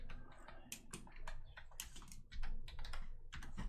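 Keys on a computer keyboard clatter in quick irregular bursts of close, crisp clicks, with a short pause partway through, and no talking over them.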